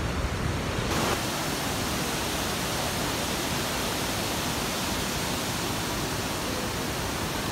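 Loud, constant roar of a powerful waterfall, a dense rushing wash of water with no pauses.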